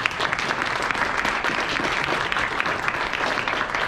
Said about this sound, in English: Please give Clem a round of applause